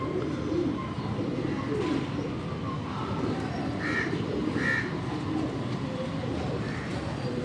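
Pigeons coo softly a few times on a Karachi rooftop over a steady, loud rush of background noise; no one speaks.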